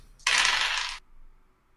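Dice clatter across a table during a tabletop roleplaying game session, one short bright rattling roll lasting under a second, fairly close and alone.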